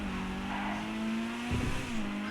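The engine of a Dinka Postlude, a 1982 Honda Prelude–style car in GTA 5, revs up steadily as it accelerates. The tone climbs, dips briefly at a gear change and then rises again, loud and close with no voices.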